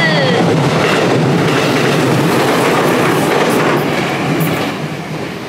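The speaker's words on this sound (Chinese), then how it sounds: "火车通过了，有点吵。" A train rolls past a level crossing near Shimizu station, a loud, close, continuous rumble and rattle of wheels on rails that stays steady before beginning to fade at the end.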